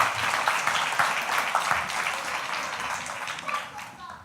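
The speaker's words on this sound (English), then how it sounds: "Give him a big round of applause." An indoor audience at a children's talk claps in a dense burst of applause that fades gradually over a few seconds, with voices mixed in.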